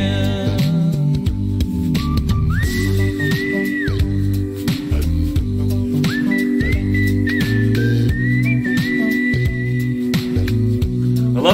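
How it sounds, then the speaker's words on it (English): Whistling in a music video, several bright sustained whistled notes sliding up and holding, set loud over a steady band backing. "I love the whistles."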